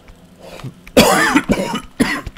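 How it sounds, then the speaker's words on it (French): Several harsh coughs and throat clearings from someone with a bronchial chest, coming in close, loud bursts about half a second apart after a quieter opening. "c'est que je vais tousser souvent"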